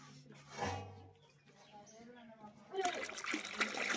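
Water poured into a cooking pot of simmering pulao in a home kitchen, a splashing gush arriving in the last second or so after people speak quietly nearby.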